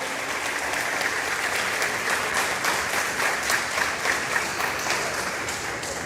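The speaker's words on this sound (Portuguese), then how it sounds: "Mas você pode aplaudir mais forte ao Senhor." A church congregation applauding during an evening sermon, dense sustained clapping from a crowd that fills the room evenly and steadily for the whole stretch.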